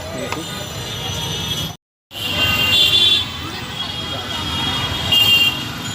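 Monday traffic jammed on a street near New Market: a constant rumble of engines and road noise with horn toots, broken by a brief dropout, and voices mixed into the din.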